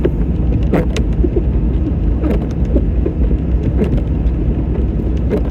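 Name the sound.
old turbo diesel car driving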